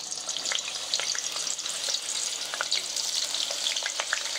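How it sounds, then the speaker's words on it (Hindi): Potato pieces frying in hot oil on a gas stove for aloo chaat, a steady dense sizzle with crackling pops throughout, close and moderately loud, no talking. "पहले हम आलू को फ्राई करेंगे।"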